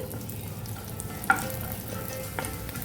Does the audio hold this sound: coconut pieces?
yes